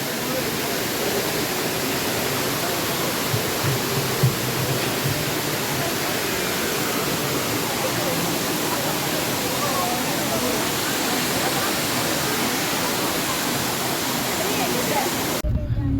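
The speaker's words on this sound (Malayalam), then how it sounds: "അവിടെ നിന്നും ഒഴുകി വരുന്ന ഈ വെള്ളം ഇങ്ങനെ ഒലിച്ചു പോവുകയാണ് ചെയ്യുന്നത്" Floodwater pours steadily down a stream past a broken bridge near Madikeri town, a dense, constant rushing roar close by that holds unchanged from start to finish.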